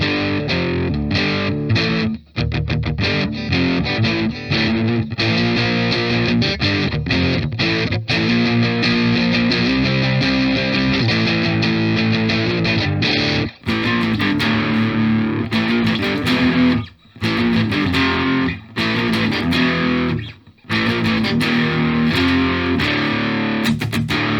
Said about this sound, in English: that's kind of actually like a really nice light distortion